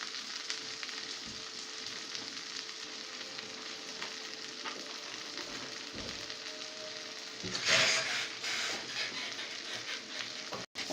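Meat frying and being stirred in a pot on a gas stove for pot kebab, a soft continuous sizzle with scraping stirs and a louder burst near the end.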